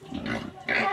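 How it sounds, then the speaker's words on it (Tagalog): A pig grunts and squeals in a short, raspy burst of two noisy calls close to the microphone, the second louder and higher. "Nag-wild ng baboy."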